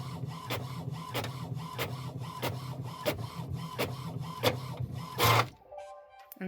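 A home printer prints pages for a digital kit, making a steady, rhythmic clacking of repeated print-head passes about every half second, then a louder whir as a page feeds out before it stops.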